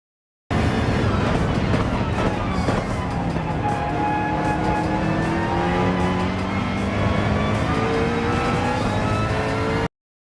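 Car speeding in the racing video game Gran Turismo 7, a continuous loud engine roar with rising revs and gear changes, heard close and steady throughout.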